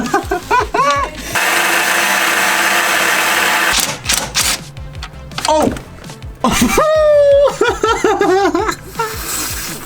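A power tool whines steadily for a few seconds, driving a T-bit into a tight, flattened fastener on a supercharged Audi S4, with close voices talking and exclaiming before and after.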